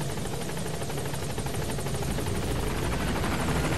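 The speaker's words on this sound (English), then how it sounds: "Support helicopter has arrived." The Pequod support helicopter in Metal Gear Solid V: The Phantom Pain arrives at a landing zone, its rotor beating loud, dense and steady throughout without a break.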